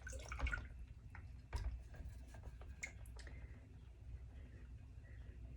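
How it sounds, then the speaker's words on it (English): Etched glass is dunked into water for rinsing, producing quiet close splashes and a few soft drips and clinks against a faint background. "Just dunk it in the water."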